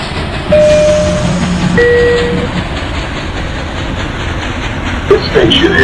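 Simulated LIRR commuter train running on rails in the Hmmsim2 game, a loud steady rumble with clickety-clack beats, brief tones and an announcement-style voice over it.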